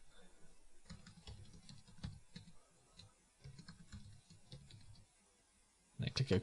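Keyboard typing at a computer while entering login credentials, soft clustered keystroke clicks in short bursts with pauses, near and fairly quiet, ending in a louder clatter of keys.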